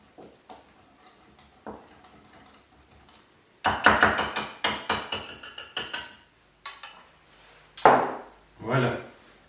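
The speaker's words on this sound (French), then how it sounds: "Donc on va mélanger le persil avec le thym." Parsley and thyme being mixed in a bowl for a Lebanese leek and potato salad, heard as a quick run of close, crisp clattering and scraping knocks, briefly preceded by quieter handling sounds.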